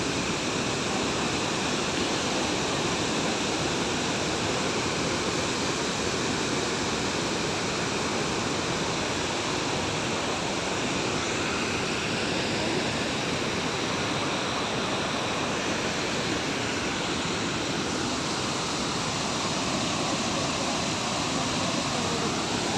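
Gundicha Ghai waterfall in Keonjhar district pours in a loud, unbroken roar of falling water that fills the whole stretch, close and steady with no other sounds.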